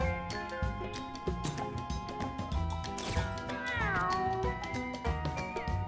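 A cat meows repeatedly in the video game Mewgenics, several rising and falling cries over a busy musical backdrop, clear and close.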